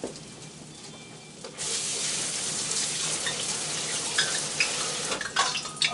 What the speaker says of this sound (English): I gotta go over here and wash my hand off